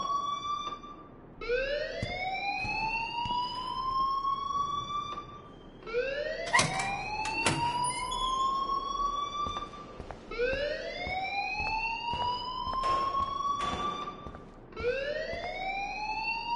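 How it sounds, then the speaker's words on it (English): A rising electronic alarm wails in the video game Life is Strange, repeating in long upward sweeps that cycle steadily, loud and alone. "please turn off that alarm since that's your job"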